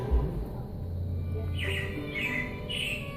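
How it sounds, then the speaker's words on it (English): Animatronic robins chirp and squawk in a Disney Carousel of Progress show at Magic Kingdom, a few bright bird calls over the low hum of the theater. "it looks like the Robins are getting ready to celebrate Valentine's Day today"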